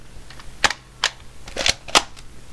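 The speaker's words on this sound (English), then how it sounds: "I'm just entertaining myself by shooting my brother's gun" An aircraft gun fires in the War Thunder combat flight game in four or five sharp, short bursts about half a second apart, loud and close against a low engine drone, with no talking.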